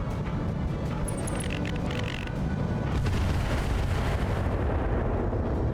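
Indirect artillery fire in the video game BattleTech hits as a continuous, heavy rumble of booming explosions, loud and close, with a swell in intensity about halfway through and no talking.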